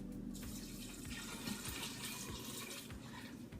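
Running water pours steadily into a pan of beans being prepared for dinner, a continuous close splashing rush like a tap filling a pot, with no talk.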